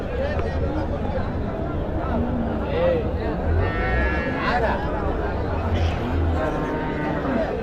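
Cattle at a Friday livestock market in Uthangarai, with a cow and calf nearby, low moos and bleating animal calls under steady crowd murmur and close talking.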